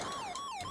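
A wailing ambulance siren from the Turbo Arcade video game, a clear synthetic tone gliding up and down in a quick cycle, loud and alone without talk.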